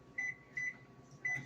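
A microwave oven hums steadily while heating a pecan praline candy mix, with three short, fairly loud beeps recurring over the low, even running drone; no voices.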